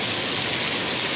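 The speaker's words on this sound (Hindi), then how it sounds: "ये बारिश काफ़ी तेज हुई है" Heavy rain in Patna, the hail having eased, pouring down as a dense, steady hiss with no breaks, loud and close throughout.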